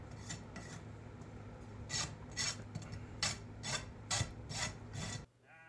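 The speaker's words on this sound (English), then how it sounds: "I'm gonna rasp the nails, get them nice and squared up so we can clinch them" A farrier's rasp files down clinched horseshoe nails on a barrel horse's hoof, giving a series of about eight short, close rasping strokes in an uneven rhythm over steady low background hum, ending abruptly.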